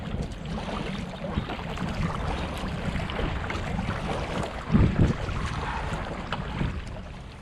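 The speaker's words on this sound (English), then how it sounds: "After the rapids, the river calms down again," Soft, steady water and wind noise surrounds a kayak gliding along a calm river below rapids, with a brief knock or splash midway.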